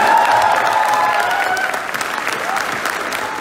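A large audience at a college Q&A session breaks into loud, sustained applause, a dense wash of clapping with a few cheers mixed in.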